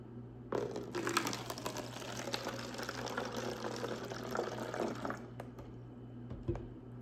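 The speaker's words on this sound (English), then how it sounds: "So our first step is to pour some vinegar into our bottle" Vinegar poured from a container into a bottle, a steady liquid pour lasting several seconds at close range with faint background hum, then ending abruptly.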